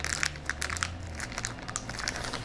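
A plastic piping bag, its tip cut off, crinkles and rustles up close as it is loaded in a home kitchen, a soft continuous crackling with small bursts and no talking.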